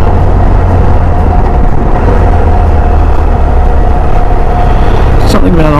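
A car drives slowly around an old church in a heritage town, its engine and road rumble steady and loud throughout, with a brief change in tone near the end.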